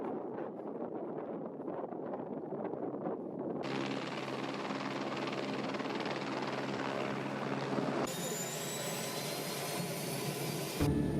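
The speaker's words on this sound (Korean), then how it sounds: "사람들이 모두 탑승하자 비행기가 날아오른다." A small ski-equipped airplane takes off near a glacier in high mountains, its engine droning steadily and loudly with wind buffeting across the microphone, continuous and close, with no talk.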